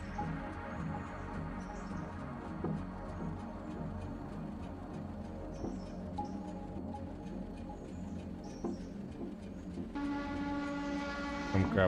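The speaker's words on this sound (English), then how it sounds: "We'll bring the switcher over." A switcher locomotive moving rail cars in the game Railroader, a low steady engine rumble with rolling rail clatter and a horn blast near the end, while a voice talks over it.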